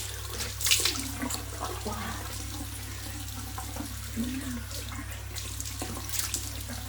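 Tap water running into a sink, a steady rushing stream with a low hum beneath and occasional splashes.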